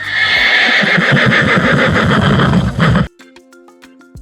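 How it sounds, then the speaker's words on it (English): A horse whinnies loudly for about three seconds in a long, shaky neigh that ends abruptly, followed by a few faint tonal beeps. "It's a horse."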